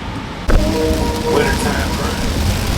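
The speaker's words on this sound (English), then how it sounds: "This rain is so damn hard right now" Heavy rain pounds a car being driven on a road trip, starting abruptly and then continuing as a loud, dense roar that drums on the body and windshield.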